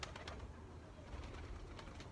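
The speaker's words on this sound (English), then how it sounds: "They are pigeons, aren't they?" Pigeons coo softly at a Kazakhstan zoo in Almaty, a low murmuring backdrop with a few brief higher chirps and clicks breaking through, steady and moderately distant.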